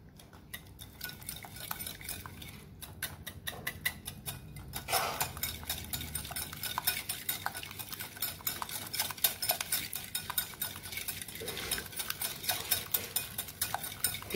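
Steady whisking of room-temperature butter into an egg mixture in a bowl for ragi oats muffins, a continuous fast scraping and clinking of the whisk that runs for the whole stretch at moderate volume.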